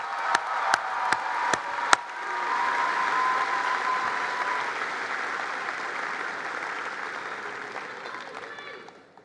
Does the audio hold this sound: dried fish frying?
no